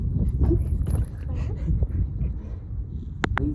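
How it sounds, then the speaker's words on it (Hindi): Outdoor wind blowing across a rural spot with buffalo resting nearby, heard as heavy low rumbling gusts buffeting the microphone, with a couple of sharp knocks near the end. "अब हवा चलने लगी है बढ़िया"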